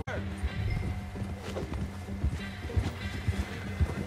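Horse hooves clip-clop in Red Dead Redemption 2, a run of regular thuds under constant game noise and voices talking over the top, with a few sharper hoof strikes standing out near the end.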